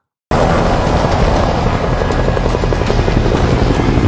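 A loud, continuous helicopter with thudding rotor blades and engine roar, sustained and close, with no voices.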